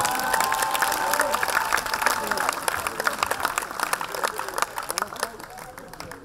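A storytelling-show crowd gives dense, sustained applause with some cheering, loud at first and thinning gradually toward the end.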